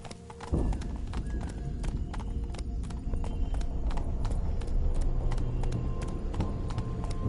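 Roach, Geralt's horse in The Witcher 3, clip-clops at a steady walking pace, close and loud, the hoof beats falling evenly throughout with no voices.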